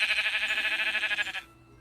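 A sheep in a video game gives one sustained, wavering bleat that lasts over a second, clear and fairly close, then stops abruptly into near silence.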